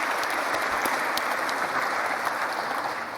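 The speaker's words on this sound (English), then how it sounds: "give Prime Minister Mottley a round of applause for her excellent leadership" Audience applause at a World Health Organization event honouring Prime Minister Mottley, a steady, dense round of clapping that runs loud and unbroken throughout.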